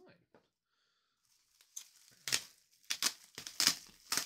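Bubble wrap around a Khador Winter Korps miniatures set from a Warmachine MKIV battlebox is pulled open, giving quiet scattered crinkles and then louder, bursty rustling toward the end, with no talk.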